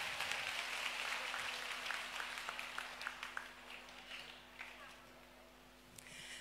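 An audience at an evening gala applauds in a dense, loud burst of clapping that gradually thins and fades over several seconds, with a little talk near the end.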